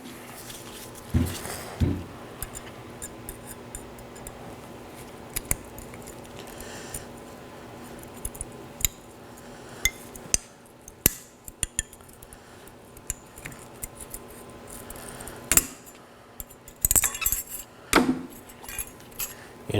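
Flat blade screwdriver prying brake pad shims off the caliper on a 2018-2024 Chevrolet Equinox front brake job: scattered sharp metallic clicks and scrapes, close and intermittent, with brief jangling clatter near the end and no talking.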